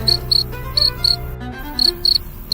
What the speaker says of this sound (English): The way that this cricket is rubbing its wings together sort of reminds me of the sound of a violin.